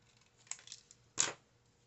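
Scissors cutting apart a piece of paper craft material for a scrapbook layout: a few small snips followed by one louder, longer cut, close up in a quiet room.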